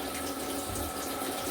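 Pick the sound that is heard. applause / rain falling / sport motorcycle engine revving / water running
water running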